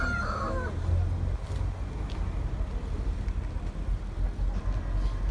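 Chickens cluck and a rooster crows faintly at a poultry market in Taşköprü, Kastamonu, Turkey, amid a busy, noisy outdoor setting with a low rumble and scattered background chatter.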